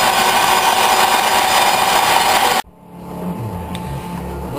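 Large metal lathe taking a fine finishing pass of about five to six thousandths, a loud steady cutting whir that stops abruptly partway through, leaving a quieter fading machine rumble.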